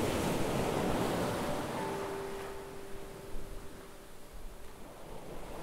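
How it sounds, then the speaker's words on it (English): Waves wash over a pebble beach under a broad rush of wind, loud at first and easing slightly, with a faint steady tone passing through midway; no one speaks. "tune in to the sound of the waves and the rush of the wind"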